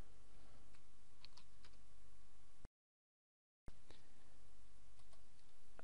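A username and password are typed on a computer keyboard, with faint scattered key clicks over a steady hum, broken by a short stretch of silence.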